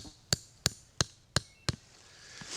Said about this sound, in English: just hammer a stake in the ground with my axe